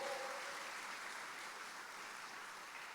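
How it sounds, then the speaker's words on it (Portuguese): A church congregation at a retreat claps together in a dense, even wash of applause, heard at a moderate distance with no voices over it. "Pode aplaudir o Senhor."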